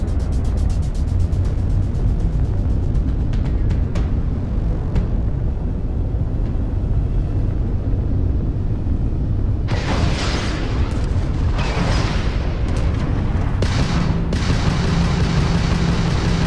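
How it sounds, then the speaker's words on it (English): A homing missile launched and exploding in a space combat video game, heard as a loud sustained rumbling roar with several bursts of blasting noise in the latter half. "fire a homing missile."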